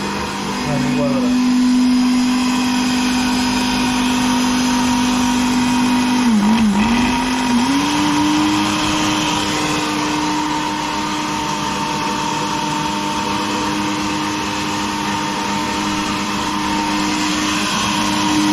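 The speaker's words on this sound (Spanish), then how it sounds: "la licuadora." A kitchen blender powered by a 4000-watt inverter runs with a loud, constant whirring drone, its pitch dipping briefly about midway before settling steady again as the motor keeps spinning.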